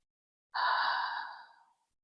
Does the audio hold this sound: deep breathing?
yes